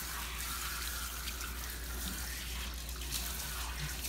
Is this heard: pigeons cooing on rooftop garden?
no